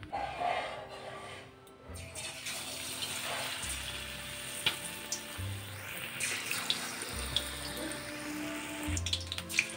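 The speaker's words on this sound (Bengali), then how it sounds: "ব্যাটারটার মধ্যে টমেটোগুলোকে চুবিয়ে তেলে ছেড়ে দেবো।" Batter-coated tomatoes go into hot oil and set off a continuous, even sizzling hiss. A faint low hum sits underneath, and there are a few sharper crackles near the end.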